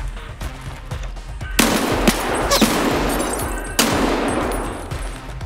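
Rapid bursts of automatic gunfire from a first-person shooter video game, loud and continuous, with two sharp onsets of heavier fire partway through and no talking.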